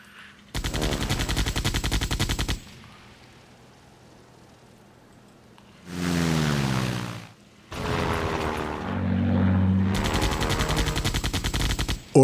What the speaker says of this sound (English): he's trying to get in between all the anti-air fire